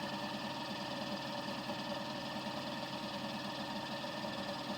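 A dual rotor flat disc motor generator with hall effect triggering runs steadily at about 600 RPM, giving a continuous, even mechanical whir and hum with a fine rapid rattle, close and constant throughout.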